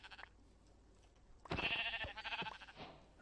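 Sheep bleat in a video game, a short cluster of wavering bleats rising out of a quiet hiss of background noise.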